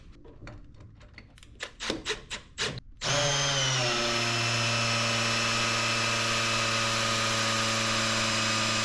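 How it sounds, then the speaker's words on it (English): A Milwaukee cordless power drill whirs up after a few short clicks and knocks, then runs at a steady, loud whine for several seconds without stopping, turning the engine pump of a mini truck. "We're gonna try the Milwaukee."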